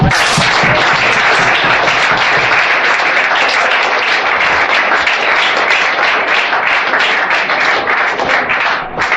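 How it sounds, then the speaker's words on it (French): A congregation at a deliverance church service claps loudly and steadily in a dense, continuous burst of applause throughout. "Il faut applaudir à Dieu."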